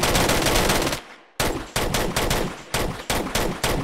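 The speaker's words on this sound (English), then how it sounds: "You just unload a whole bunch of ammo if you want." Gunfire from the zombie shooter game Arizona Sunshine rings out in rapid automatic bursts, loud and close, with one brief pause and then repeated sharp volleys, no talking.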